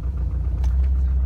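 Subaru Impreza GC8 engine running rough on a dyno, a loud, close, steady low rumble with uneven sputtering, the idle held at steady throttle and no voices over it.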